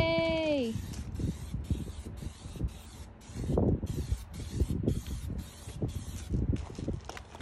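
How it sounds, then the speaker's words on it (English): Hissing spray-paint bursts in short repeated pulses onto a wooden ladder outdoors in wind, with a brief high whine at the start and faint thumps underneath. "Babe is going to spray paint my ladder"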